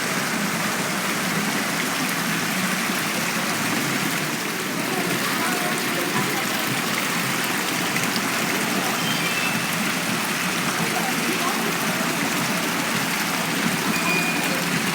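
Fountain water at the Irvine Spectrum Center outdoor shopping mall splashes in a steady, full hiss that stays constant throughout, with faint voices of people nearby mixed beneath the rushing water.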